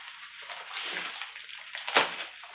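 Running water rinses dirty NES console parts, a steady faucet stream with sloshing and splatter, close and moderate in level, rising to one brief louder splash near the end.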